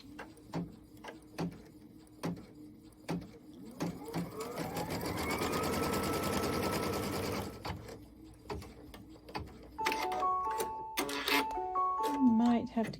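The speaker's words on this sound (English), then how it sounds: "Now I'm going to stitch my placement line for my" An embroidery sewing machine stitches a placement line for quilt batting, its rapid needle chatter running steadily through the middle stretch, with someone talking over parts of it and a few clicks and beeps near the end.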